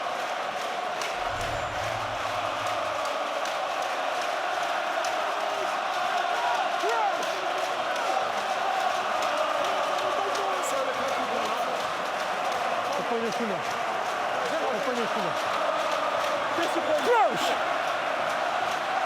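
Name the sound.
rugby stadium crowd cheering and roaring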